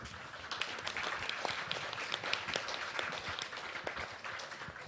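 An audience at a cloud technology summit claps for the panelists, a fairly faint but continuous patter of many hands with scattered sharper claps, heard from some distance and without talk.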